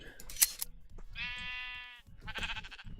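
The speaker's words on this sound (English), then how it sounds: "Hey, I found a sheep." Sheep in a modded Minecraft game bleat in two drawn-out, wavering calls after a short sharp click, clear and close, with faint speech underneath.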